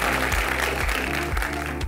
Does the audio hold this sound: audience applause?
yes